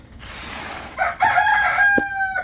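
A rooster at a backyard chicken coop crows once, loud and close, a drawn-out call rising and holding before breaking off, preceded by soft rustling.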